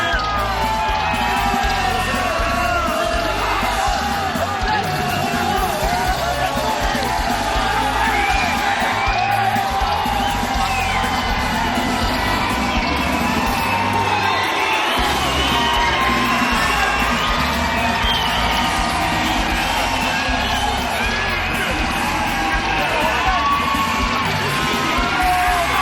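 A packed boxing arena crowd at a title eliminator bout, Jose Ramirez against Richard Commey, roars continuously with cheers, whoops and yells, a dense, loud wall of noise that never lets up.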